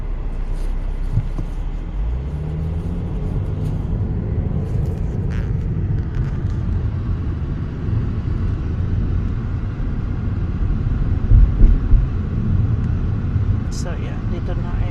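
Company vehicles rumble through an industrial area in Jowaher, a constant low traffic drone with passing engines throughout, while a voice talks faintly over it.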